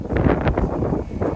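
Strong wind gusts buffet the microphone outdoors during a motorcycle trip to Mandarmani, a steady low rumble with brief surges, loud and close throughout.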